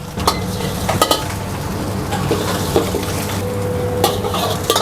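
Fried rice with dried shrimp, garlic, spring onion and egg being stir-fried in a busy street food stall kitchen, a steady loud sizzle with scraping spatula strokes and occasional metallic clanks of the pan.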